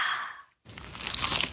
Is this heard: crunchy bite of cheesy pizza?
yes